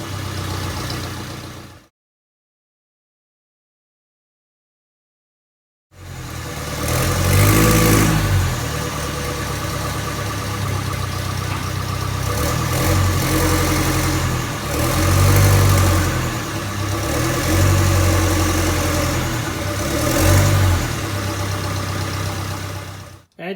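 A Land Rover Series 2A diesel under restoration cold-starts after a few seconds of silence, then settles into a loud, rough, clattering idle that swells and dips repeatedly, recorded close by.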